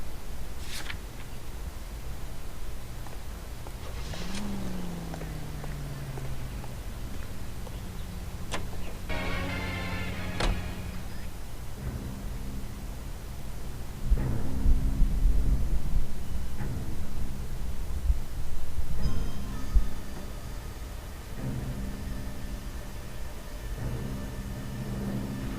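A car driven in the video game LA Noire, a steady low engine drone with occasional clicks, ticks and passing swells, no talk over it.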